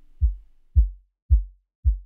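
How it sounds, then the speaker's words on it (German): Four deep, punchy kick drum thumps from the Bitwig P-O-Puncher, spaced in an uneven heartbeat-like pattern, each with a fast attack and a short boomy decay, loud and dry with no voices. "Könnte hier jetzt wie so ein Herzklopfen da reinmachen."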